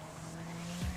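Car tires squeal briefly in the game Watch Dogs as a car skids on a rain-soaked road, a short sharp screech over a steady engine drone.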